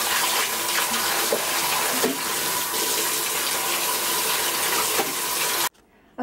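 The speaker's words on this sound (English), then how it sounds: "after I rinse that with cold water, I untie it." Cold tap water gushes steadily over a tie-dyed item being rinsed, a loud continuous splashing stream that cuts off abruptly near the end.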